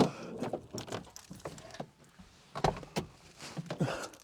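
A stubborn door on a BMW E36 project car is worked open and shut, giving scattered knocks, rattles and a couple of firmer thuds close to the microphone.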